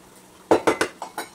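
A spoon scrapes and clanks against a pan while vegetables and semolina are stirred, five sharp close knocks in a quick, slightly uneven rhythm.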